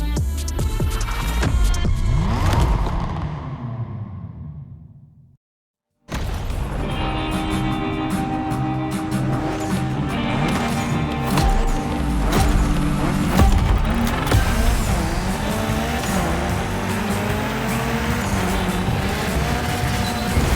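A Mitsubishi Evo 9 driven hard through a gymkhana course in The Crew Motorfest, loud engine revving and throbbing with gear shifts, a brief drop to near silence, then sustained high-revving engine roar with tire noise, no talk.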